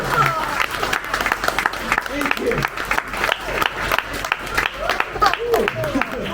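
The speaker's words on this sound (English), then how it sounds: "can I please get a big round of applause for Elvis?" Audience at a Gatlinburg, Tennessee magic and mind-reading show applauds for a volunteer, a steady wash of clapping mixed with scattered cheers and crowd chatter throughout.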